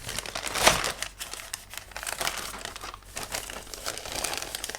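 Crinkly plastic bag holding the sprues, floor pan and bodywork of an AMT 1/24 1965 Pontiac GTO model kit, handled close up with a sharp rustle early on and continued crumpling throughout.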